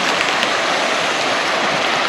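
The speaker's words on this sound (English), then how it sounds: "So this is the Murray River" The Murray River at its normal low flow, on a high-country 4WD camping trip, gives a steady broadband rush of moving water, close and continuous, with no voices.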